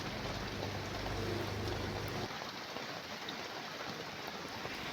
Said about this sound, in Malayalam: മഴ തകർത്ത് പെയ്യുവാണ്.